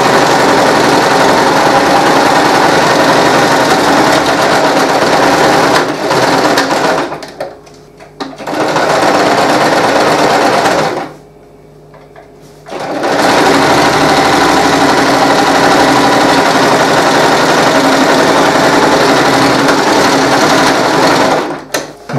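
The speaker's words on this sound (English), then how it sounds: "I'm sewing down all of the seams now" A sewing machine stitches down the seams of a medieval Viking-style Skjoldehamn hood, running loud and continuous in long bursts with two brief pauses between runs.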